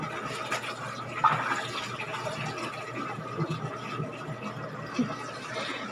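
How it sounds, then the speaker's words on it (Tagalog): Water is poured in while doing laundry, a soft continuous splashing and trickling with a couple of brief brighter splashes, fairly faint and close. "Lagyan ng tubig na pa."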